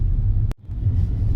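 Steady low rumble inside a car creeping through city traffic, with road and engine drone continuing close and even, briefly cut off for a moment midway.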